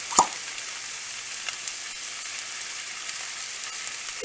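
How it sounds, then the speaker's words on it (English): Hot oil in a pan over a high flame crackles with a steady, even sizzle as peppers fry, a dense continuous hiss with one brief clack at the start and no voices. "There's the sizzle."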